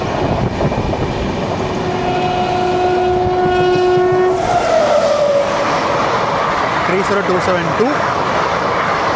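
Chennai Central–Mangaluru Central Mail Superfast, train 12601, sounds its horn in long sustained blasts, then rushes loudly past up close with a broad roar and rattling wagons filling the rest.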